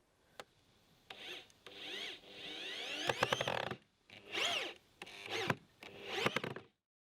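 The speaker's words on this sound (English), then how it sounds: "Countersink and screw them into the timber frame they are now sitting on." A power drill countersinks and drives screws through metal panels into a timber frame for an IBC wicking garden bed. Several close bursts of rising and falling motor whine come with pauses between them.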